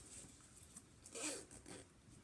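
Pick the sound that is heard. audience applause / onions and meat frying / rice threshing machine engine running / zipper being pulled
zipper being pulled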